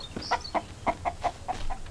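Chicken in the survival video game Mist Survival clucks in a quick series of about eight short, evenly spaced clucks, close and clear with no talking.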